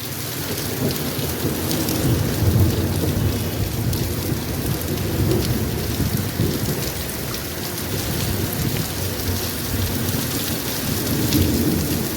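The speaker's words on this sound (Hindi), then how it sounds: "ये देखें बारिश तेज़ हो गई है, पूरी बिजली चमकी है" Heavy monsoon-style rain in Sialkot, Pakistan, pours down steadily with a constant dense hiss, while deep thunder rumbles roll through underneath as lightning flashes; no voices are heard.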